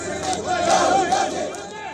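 A massive crowd at Rahul Gandhi's roadshow in Wayanad, a dense roar of many voices with cheering swells, loud and continuous throughout.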